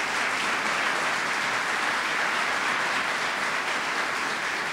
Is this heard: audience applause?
yes